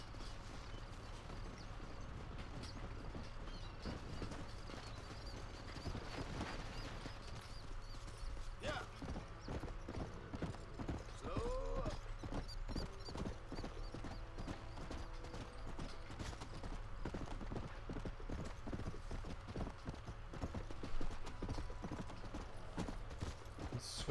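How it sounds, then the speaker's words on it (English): Steady clip-clop of horse hooves passing by in Red Dead Redemption, fairly faint, with creaks and a low background hum; voices talk now and then. "Wait for the horse to come by."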